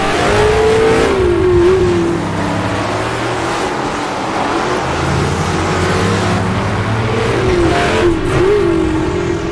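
A race car engine in a racing video game, a Mustang, revs and accelerates hard and loud, with the pitch climbing through a gear shift, dipping, then rising again.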